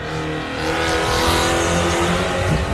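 Race car number 585, a performance two-wheel-drive car at the Loveday 400 rally, roars past with a loud engine that swells and fades over a few seconds, with tires squealing faintly, no voices.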